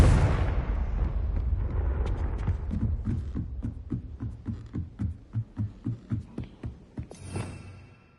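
A Confringo spell explosion in the video game Hogwarts Legacy hits with a loud blast that rolls off and fades. A steady run of deep, evenly spaced thumps follows, like a pounding heartbeat, and the scene ends with a brief bright flare.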